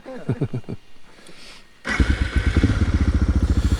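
A Suzuki DR 650 motorcycle engine cranks over with a brief whir, then catches and settles into a loud, close, steady thumping idle. A faint voice comes before the start.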